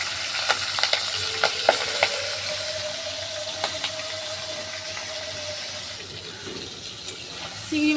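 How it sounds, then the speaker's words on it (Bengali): Shrimp fry in a hot pan, giving a steady close sizzle with light stirring clicks and a few utensil taps near the start, the hiss easing slightly later on, no talking. "এবার আমি চিংড়ি মাছগুলো ভেজে নেব।"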